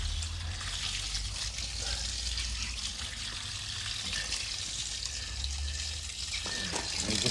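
Dirty water from a Panther gutter vac is tipped out onto stones, making a steady, continuous pour and splash that runs unbroken for several seconds at close range.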